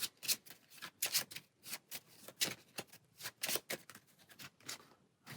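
A deck of playing cards is shuffled during a solo tabletop session of the card game Marvel Champions, with a rapid series of crisp riffling bursts, close and fairly loud, repeating in quick, uneven pulses with no talk over them.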